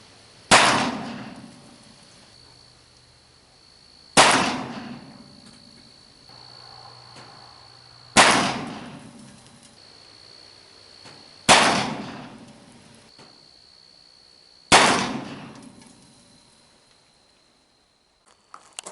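Uberti 1860 revolver with a .45 Colt Howell cylinder firing Lee-cast bullets: five sharp, loud shots spaced a few seconds apart outdoors, each with a short ringing decay.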